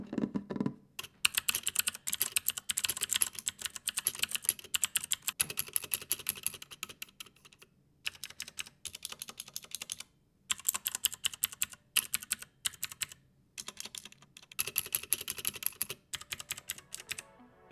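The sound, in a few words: typing on Cooler Master MK721 prototype keyboard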